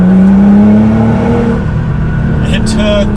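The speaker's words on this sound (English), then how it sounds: "If I go down to third gear and floor it" A Nissan GT-R engine drones loud and close under full throttle in third gear, a steady strained roar inside the cabin as someone talks over it.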